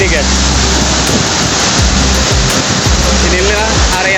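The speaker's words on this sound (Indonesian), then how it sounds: "Inilah area terjun di sekitar lokasi air terjun." A forest waterfall roars as a loud, steady broadband rush of falling water, continuous and close, with faint talk underneath.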